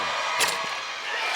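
A high school basketball championship crowd in a gym yelling at a free throw shooter, a dense continuous roar of many voices with a brief louder shout, no clear commentary.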